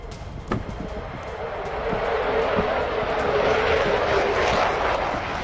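An F-35 fighter jet flies past, its broad roaring engine noise swelling louder over several seconds and staying strong to the end, with no one talking.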